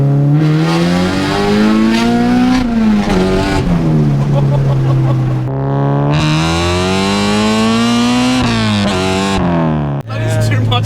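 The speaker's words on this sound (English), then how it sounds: "I can definitely say the K-Series is just on top. Wow. The rev matches are the best." A Honda with a K-Series engine swap revs hard through rev-matched downshifts, its loud harmonic engine tone rising and falling in sweeping blips and sustained pulls, close and dominant, cutting briefly near the end.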